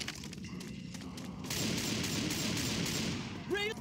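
Gunfire in the zombie shooter Left 4 Dead 2 during a custom campaign, a dense burst of rapid shots sustained over a noisy game backdrop, with a brief higher-pitched squeal near the end.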